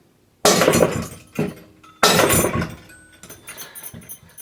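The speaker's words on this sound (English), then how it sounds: "then you hit it with a big hammer" A big hammer drives a wood block against a bicycle headset cup. Two loud, sharp blows ring out about a second and a half apart, with lighter knocks and rattling decay between and after them.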